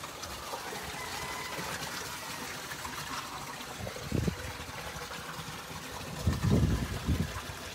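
Water pours steadily through a 50 mm (two-inch) siphon in an aquaponics system, a continuous trickling gush with a couple of louder surging bursts near the end.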